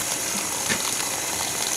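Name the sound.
water bubbling during iron and sulfur removal system start-up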